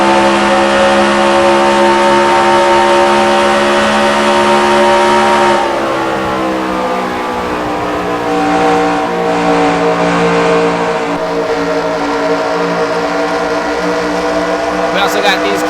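Race car engines roar loudly and continuously in a sim racing game during an online league session, a sustained high-pitched whine that shifts pitch around the middle as the car changes gear, with a voice talking over it.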